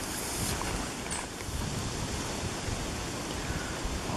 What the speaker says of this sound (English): A lot of moving water.